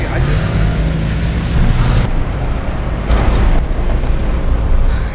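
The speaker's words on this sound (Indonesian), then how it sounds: "Jessica tidak mau meladeninya dan tancap gas" A car pulls away and speeds off, its engine a loud, rising low rumble with a brief whoosh near the end and no other sounds.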